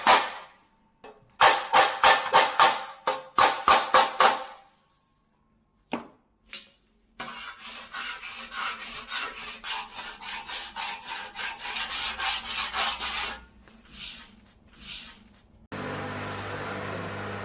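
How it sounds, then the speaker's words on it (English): Rough 40-grit belt sander grinds against a chrome car bumper in repeated bursts, with a run of short rasping passes, a pause, then longer continuous sanding with rhythmic surges and a steady motor hum at the end. "we're starting out with a very rough belt, a 40 grit"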